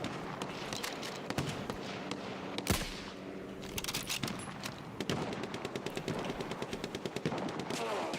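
Rapid gunfire crackles throughout, with dense rattling bursts and sharp individual reports, moderately distant and steady, some louder single bangs standing out, as in a video game firefight.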